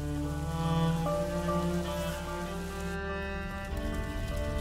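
Steady rain falls in a medieval-style game scene, a continuous wash of droplets mixed under sustained musical tones and low drones with no talk.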